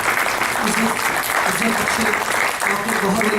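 An audience at a mushaira and kavi sammelan claps in a dense, sustained round of applause while an announcer's voice speaks over it.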